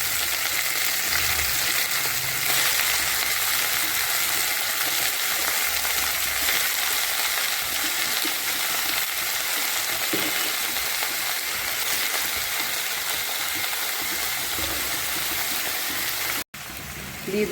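Chopped greens frying with garlic and green chilli in hot oil, a dense, continuous close sizzle and crackle that holds steady throughout with a brief break near the end.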